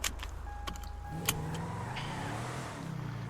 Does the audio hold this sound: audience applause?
no